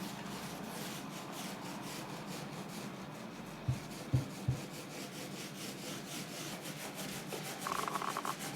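Primed MDF edges are sanded by hand, giving a quiet, continuous rubbing scrape with a few soft knocks midway. It sounds close and faint with no talking.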